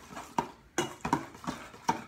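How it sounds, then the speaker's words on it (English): A spoon clinks against a bowl while rice is stirred with olive oil, giving five or six sharp, close taps in an uneven rhythm with soft scraping between them. "I'm gonna stir that up"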